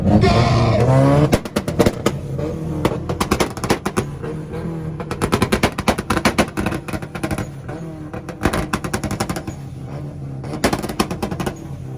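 A Nissan at a two-step rev battle finals in Oklahoma holds a loud steady rev, then fires rapid machine-gun-like bursts of launch-control pops and bangs in irregular clusters, close and harsh with crowd noise behind.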